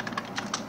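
A brief burst of about four computer keyboard keystrokes while typing a blog post title, quick and close, fairly soft, with no voices.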